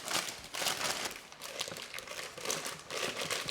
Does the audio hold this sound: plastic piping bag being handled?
yes